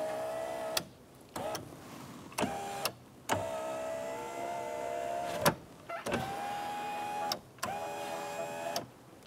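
A rear power window motor in a 2007-2012 Nissan hums steadily in several separate bursts, each a whining electric drone raising the glass, stopping and restarting with short clicks between runs.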